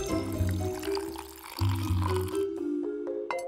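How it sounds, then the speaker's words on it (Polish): Water is poured from a container into a glass in short, close bursts, with a brief gurgling fill, a pause and a final splash at the end. "Nalewamy."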